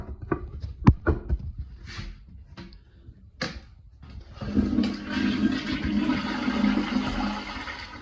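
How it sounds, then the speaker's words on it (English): A repaired toilet with a new fill valve, flush valve and seal: a few handle clunks and clicks, then a loud rushing flush with water gushing and draining steadily through the second half. "So we will see how it flushes."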